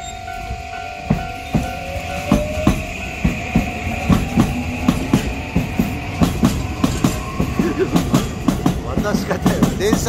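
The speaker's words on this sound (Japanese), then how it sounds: "確かに電車通ってるし。" A train rolls past close by in Keisei Tateishi, Japan, its wheels clacking in a steady rhythm over the rails, with a faint rising tone and some voices underneath.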